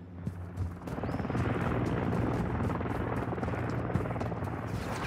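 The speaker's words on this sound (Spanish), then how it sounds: "Ah, un helicóptero." A helicopter in the Modern Warfare III video game, a steady, dense rotor drone that fades in and then holds fairly constant for several seconds, with no talk over it.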